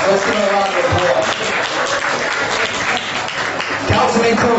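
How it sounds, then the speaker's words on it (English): Audience applause at the Flushing Town Hall 2013 gala, a dense continuous wash of clapping from a crowd indoors, steady and loud throughout with a voice briefly audible underneath. "Let's give him a round of applause."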